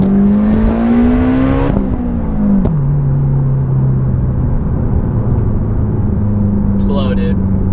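Lamborghini Huracan Performante V10 heard from inside during a ride: a loud, steady engine drone climbs, drops sharply at a shift, then settles into a lower, even hum, with voices nearby.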